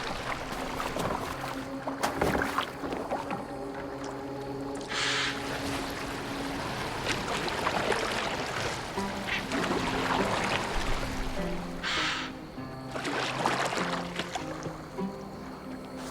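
A boat glides across water in Assassin's Creed Valhalla. Continuous splashing and wash run under sustained tonal game music, with a few brief brighter bursts along the way.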